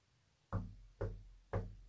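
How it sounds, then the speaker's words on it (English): Three evenly spaced knocks on a wall, each a solid close thud about half a second apart, in an otherwise quiet room. "Again, Spirit, I'm going to knock on the wall."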